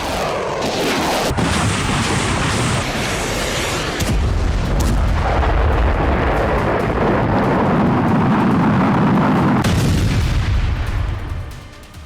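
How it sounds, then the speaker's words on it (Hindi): Missile explosions go off in a dense, continuous rumble of heavy booms and blasts that keeps rolling for about twelve seconds, loud and crowded with overlapping impacts before it fades at the end. "धमाके पर धमाके होने लगे, हर तरफ कोहराम मच गया।"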